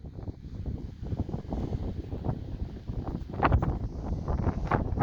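Steady gusting wind blows outdoors ahead of an approaching rainstorm, a continuous broadband rush with fluctuating intensity and a louder surge near the middle, heard close to the microphone with no talking.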